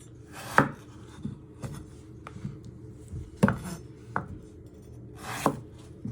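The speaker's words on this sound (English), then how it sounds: "you're just going to chop them in half again like that. So what we're doing, we're just chopping them into fours" Knife chopping potatoes into quarters on a cutting board, several distinct knocks spaced irregularly, close and clear with no talking.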